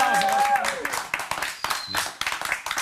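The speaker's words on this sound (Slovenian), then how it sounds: "Lep aplavz." Studio audience clapping on a Slovenian television show, a brief scattered round of applause with a voice speaking over the start, uneven claps tapering off.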